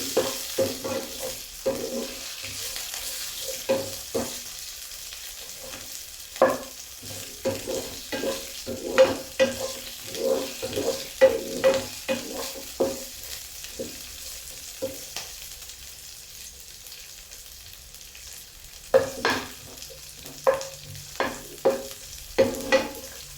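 Green chilli pieces fry in a pan for an aloo and tomato curry, a soft steady sizzle broken by frequent scraping, clinking strokes of a spatula stirring, no voices.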